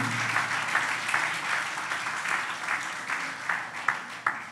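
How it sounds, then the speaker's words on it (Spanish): A church congregation applauds in a dense, steady patter of many hands, loud and sustained with a few sharper claps standing out. "Denle un aplauso a Dios por eso."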